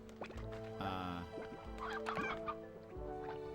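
Chickens in the video game Slime Rancher 2 cluck repeatedly in close, loud, uneven bursts of short calls and squawks, with no talking over them.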